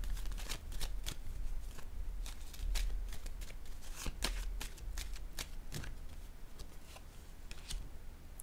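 Tarot cards being shuffled and drawn by hand, a steady run of quick riffling flicks and snaps close up, with no talking.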